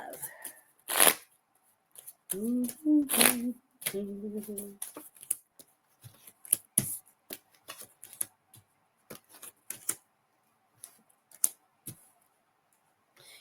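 Tarot cards shuffled by hand in sharp irregular bursts of riffling and snapping, close and crisp, with a brief stretch of talk near the start between the shuffles.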